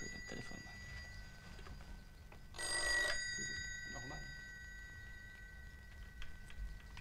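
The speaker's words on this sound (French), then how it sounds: "Oh, j'ai le téléphone." A telephone bell rings in one short, loud burst partway through, with someone talking in French before and after it in an indoor setting.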